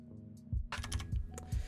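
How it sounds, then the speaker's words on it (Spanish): Fast keystrokes on a computer keyboard with an English layout, a run of clicky presses after a brief quiet start, heard close up with no talking. "voy a darle un par de enter"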